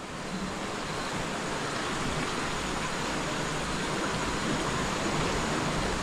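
A river pours steadily beside a small bridge in rainy-season Konkan, Vengurla, as a dense, constant rushing roar, close and loud, with no voices.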